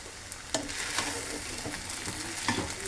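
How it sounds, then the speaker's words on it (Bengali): Noodles tossed with crumbled scrambled egg and a sprinkle of spices fry in a pan for a breakfast dish, giving a faint, steady sizzle with a few soft stirring knocks. "নুডলস ভাজা হয়ে গেছে, এর মধ্যে আবারও মশলা একটু দিব ছিটিয়ে"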